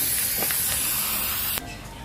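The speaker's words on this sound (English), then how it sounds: "we're going to give them some spray paint." A can of spray paint hisses in one steady, loud burst for about a second and a half as it coats an item for a DIY office makeover, then cuts off abruptly.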